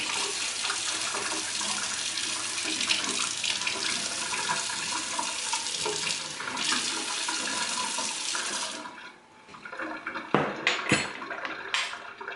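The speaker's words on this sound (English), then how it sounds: "I'm just going to get 2 tablespoons of cold water from the tap" Cold water pours steadily from a kitchen tap in a broad hiss for several seconds, then stops, followed by a few brief clinks and splashes nearby.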